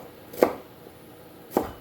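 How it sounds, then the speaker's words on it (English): Two separate knife chops through an onion on a board, each a crisp close thud about a second apart, with quiet between them. "Again, don't worry about cutting it too fine."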